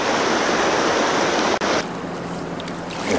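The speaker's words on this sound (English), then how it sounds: "There's a waterfall that just went under, over, right over there." Water rushes continuously over a small dam on the Passaic River, heard from a kayak as a loud, steady broadband roar with a brief dropout midway.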